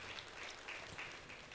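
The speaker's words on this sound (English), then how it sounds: "A round of applause for him" Steady applause from an audience at a formal institute event, honouring the president of the Chartered Institute of Taxation of Nigeria; the clapping is continuous, moderately distant and fairly quiet, with no voices over it.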